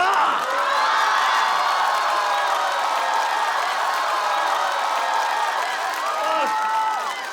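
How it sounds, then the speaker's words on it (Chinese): A stand-up comedy audience bursts into sustained, loud applause mixed with cheers and whoops, filling the room for several seconds. "掌声！"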